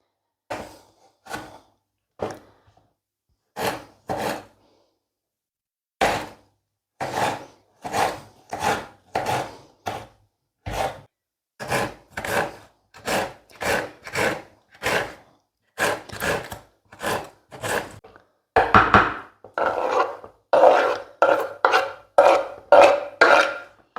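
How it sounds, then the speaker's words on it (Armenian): A knife chops pepper on a board in a home kitchen, sharp separate strokes at first, then a steady quickening rhythm of close, crisp cuts with no talking. "որոշեցի պղպեղ կտրատել"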